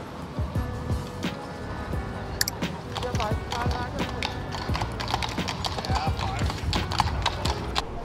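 Horse hooves of carriage horses clip-clop steadily on the paved street outside a palace entrance in Vienna's first district, mixed with city bustle, passing traffic and people talking nearby.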